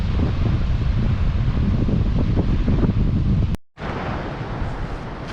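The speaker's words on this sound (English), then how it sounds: "A little bit windy today." Steady, heavy wind buffeting the microphone with a low roaring rumble at Victor Harbor, briefly cutting out near the end before resuming.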